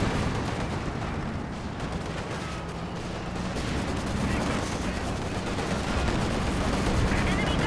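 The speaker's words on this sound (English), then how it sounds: "The Panzerwerfer rockets almost clear out the Zis." Rocket barrage from German Panzerwerfer launchers in the Company of Heroes 2 real-time strategy game, with dense, continuous explosive rumble and crackling gunfire filling the whole stretch over a busy battle backdrop.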